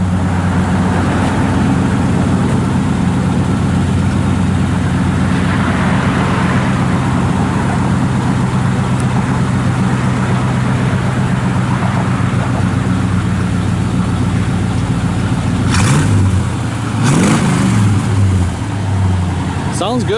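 A 1979 Chevrolet C10 shortbox with new dual exhaust rumbles steadily at idle, then gives a couple of sharp revs near the end, with people talking nearby.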